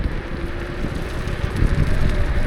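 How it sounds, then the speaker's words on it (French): Wind roars across the microphone during a mountain ride on a Kukirin G2 electric scooter, a steady, loud, rushing rumble with no voices. "Après là, il y a beaucoup de vent."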